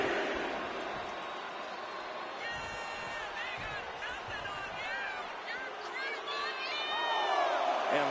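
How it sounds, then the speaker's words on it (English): Crowd cheering in the WWE 2K25 wrestling video game, a steady roar of arena noise, fairly faint, with excited shouts and whistles over a commentator's voice. "Lyra Valkyria is revving this crowd up."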